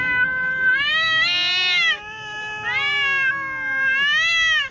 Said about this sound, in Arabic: إن الصراخ صوت قوي ومتكرر يمكن للقطط أن تصدره عندما تشعر بالضيق أو الألم